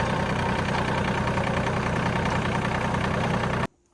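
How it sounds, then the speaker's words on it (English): A green tractor's engine runs at a steady idle, a loud continuous mechanical rumble with a faint knocking texture, close by, then cutting off abruptly near the end. "I'm gonna drive the tractor down"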